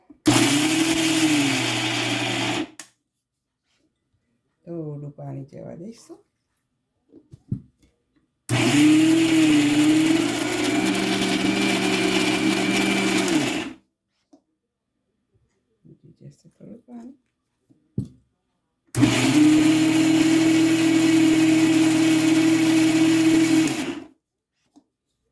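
A mixer grinder coarsely grinds soaked chana dal for Surti locho, running in three loud, close bursts of several seconds each, separated by pauses with lid rattles and someone speaking.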